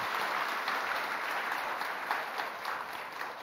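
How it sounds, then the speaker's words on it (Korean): A church congregation applauds during an evening service, a dense, even wash of clapping from many hands sustained throughout, slightly distant, with no clear speech. "박수 한번 합시다"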